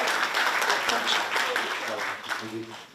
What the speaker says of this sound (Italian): l'onorevole Walter Rizzetto, lo salutiamo con un applauso.